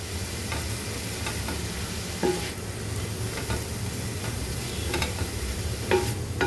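Cabbage sautés in a hot pan, giving a steady, close sizzle with scraping stirs at a regular pace throughout and no voices.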